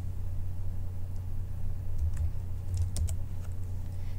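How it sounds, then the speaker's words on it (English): Keystrokes on a computer keyboard while a report name is entered into query software, a short run of soft, close clicks clustered in two brief bursts over a steady low hum. "First, I'm going to type in the report name."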